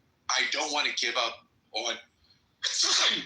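A single sharp sneeze cuts in briefly between stretches of someone talking during a live stream, close to the microphone and loud against the speech.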